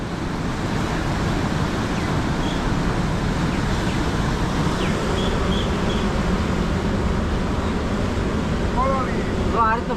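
Rough sea surf roars continuously nearby, a dense wash of crashing water mixed with heavy wind buffeting the microphone.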